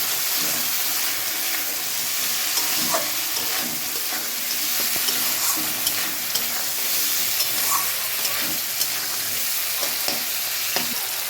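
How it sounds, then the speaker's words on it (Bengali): Fried crabs sautéing in a thick spice paste for crab curry, with steady oil sizzle and frying hiss throughout and scattered stirring clicks and scrapes against the pan, close and loud, no talk. "এবার আমি এর মধ্যে ভেজে রাখা কাঁকড়াগুলো অ্যাড করে দিলাম। দিয়ে ভালো করে এটাকে কষিয়ে নেব।"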